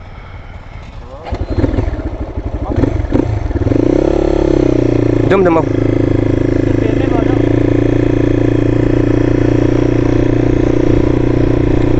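A Bullet motorcycle engine on a ride near Suicide Point in Jhapa idles loud and close with a steady low throb after some clattering and revving at the start, while people talk over it.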